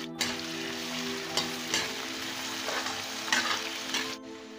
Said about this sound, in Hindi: इसमें डाल देंगे आलू के टुकड़े और प्याज, दोनों को साथ में डालकर भून लेंगे।